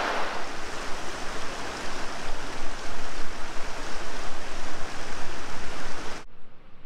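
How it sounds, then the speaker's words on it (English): A tiny waterfall in a Southern Illinois park gives a steady, close rushing wash of falling water that holds even and unbroken for about six seconds, then cuts off abruptly. "Check this out, I found my first waterfall on the trip."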